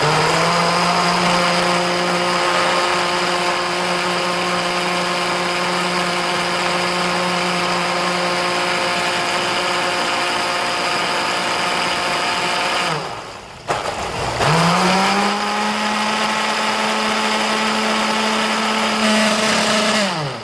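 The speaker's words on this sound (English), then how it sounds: "this blender, why I'm using my blender, is it's going to thicken up the dressing" A blender whirs loudly and steadily mixing salad dressing, its motor pitch holding constant, then briefly cuts out and spins back up to full speed.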